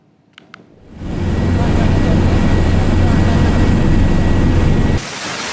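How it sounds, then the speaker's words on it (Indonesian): Indonesian Air Force Caracal helicopter flying: a loud, steady roar of engine and rotor noise that swells in after a quiet start and holds constant, with a sharp drop near the end. "Helikopter Karakal TNI Angkatan Udara mendistribusikan bantuan kemanusiaan ke wilayah"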